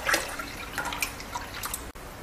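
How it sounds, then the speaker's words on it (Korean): Water being poured into a pot for brining chillies, a close splashing trickle with bright gurgles and drips over about two seconds, ending in a brief gap, no talking. "물 3리터 부어주고"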